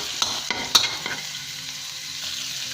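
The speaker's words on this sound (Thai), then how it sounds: "ผมก็จะใส่หมูบดนะครับ ลงไปเลยนะครับ แล้วก็ผัดให้เข้ากันกับพริกของเราเลยนะครับ" Ground pork stir-fried with chilies in a hot pan, a few sharp utensil clanks and scrapes at the start over a steady sizzle that settles into a quieter hiss, close up and without speech.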